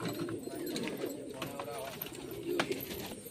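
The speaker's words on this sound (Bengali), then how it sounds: "এটা মাদি পায়রা" A female pigeon gives low, rolling coos close by, with a faint, indistinct voice in the background.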